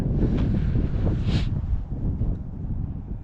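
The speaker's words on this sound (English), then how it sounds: "It's windy." Wind buffets an outdoor microphone in low, uneven rumbling gusts that rise and ease over a few seconds, with no voice heard.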